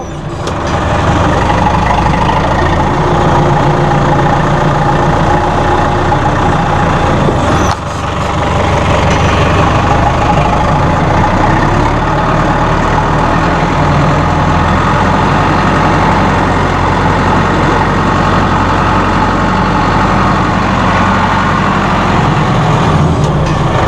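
A 2007 Massey Ferguson 573 utility tractor fitted with a Quicke Q30 loader idles steadily and loudly nearby, its low diesel rumble continuous throughout with a brief dip in the middle.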